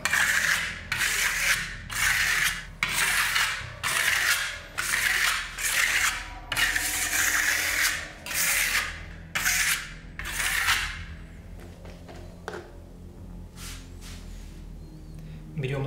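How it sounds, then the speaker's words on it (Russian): A microcement coating sample being polished by hand in long, regular rasping strokes, about ten evenly spaced passes, then lighter scattered scrapes toward the end. "Но прежде чем тонировать покрытие, наш образец, мы тщательно заполируем."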